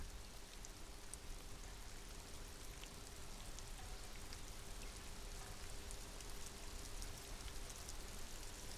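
Steady rain falls in the rainy city streets of the video game Disco Elysium, a continuous, even hiss of drops on surfaces with no talking over it.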